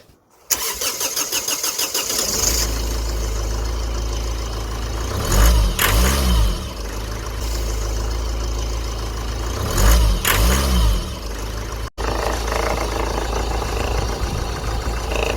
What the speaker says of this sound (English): So now we're gonna start the car up. and see whether it starts up.